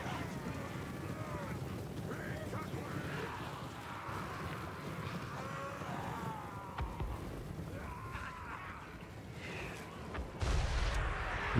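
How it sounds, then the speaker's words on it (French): Artillery cannons fire during a video game battle against Skaven: muffled booms and blasts sit within a busy, faint battle din, with a couple of sharper hits standing out and a louder burst near the end. "Oh mais c'est de l'artillerie d'Induka"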